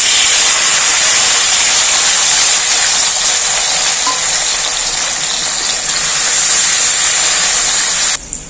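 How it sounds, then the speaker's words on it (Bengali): Chopped tomatoes dropped into hot oil tempered with cardamom, cloves and cinnamon, giving a loud, steady sizzling hiss that carries on unbroken before cutting off abruptly near the end. "কেটে রাখা টমেটো দিয়ে দেব"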